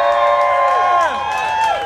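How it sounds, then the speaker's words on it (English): A crowd at the Malverns Classic BMX show cheers and whoops, loud nearby voices rising and falling in pitch for a couple of seconds. "give you a cheer if you want Snoop Dogg to take this one"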